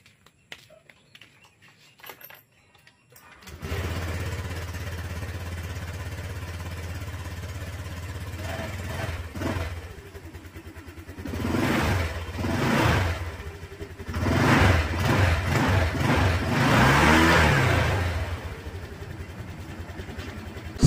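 A Honda Click Version 2 motor scooter engine starts up after a few seconds of quiet, idles steadily, then revs in several rising bursts, loud and close, with no talking.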